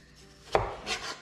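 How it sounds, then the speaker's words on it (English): A knife slices through a homegrown apple, one crisp cut with a brief follow-through, close and fairly faint, no voices. "So I'm just going to slice them"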